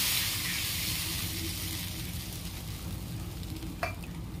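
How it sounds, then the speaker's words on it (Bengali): Spice mixture poured into hot oil in a wok sizzles and hisses steadily, a close, fairly quiet frying sound with a small clink near the end. "এবার এই যে মিক্সচারটা আমি ঢেলে দিলাম তেলের মধ্যে।"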